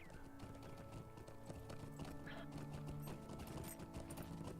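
Horse hooves gallop in steady rapid clip-clop rhythm in the online fantasy game Lord of the Rings Online, continuous and close amid game music and ambience.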